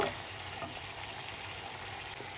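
Pasta and vegetables sizzle steadily in a hot pan as pasta sauce goes in, a soft continuous frying hiss with light stirring, fairly quiet and close, with no voices.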